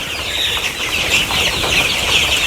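Sick Sonali chickens, diseased birds in a poultry shed, cluck and chatter continuously at close range, a busy overlapping flock sound with no voices.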